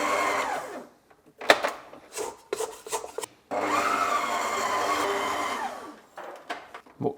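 A stand mixer with a dough hook kneads dough. Short bursts of motor whir and knocking come first, then a sustained, close hum whose pitch sags and recovers before it cuts out.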